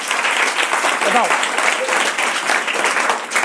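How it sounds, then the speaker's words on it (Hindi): Audience at a student motivational talk applauding, a dense, continuous round of clapping close by, with a voice speaking briefly over it. "ताली मारे इसके लिए।"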